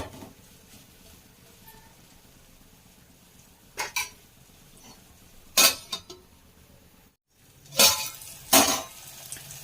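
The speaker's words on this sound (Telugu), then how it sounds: "వీటిని ఒక 1 మినిట్ ఆయిల్లో మగ్గనివ్వాలి." Dry fish frying in oil with salt and turmeric in a pan, a faint low sizzle running throughout, broken by a few sharp scraping and clinking stirs of a utensil against the pan.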